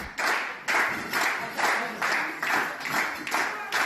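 A wrestling crowd at a Mid-Atlantic deathmatch event claps and cheers in loud, rhythmic bursts, roughly eight evenly spaced waves of applause.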